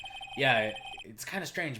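A telephone rings in the Phoenix Wright: Ace Attorney video game, a bright electronic ring up front that is quickly followed by speaking voices.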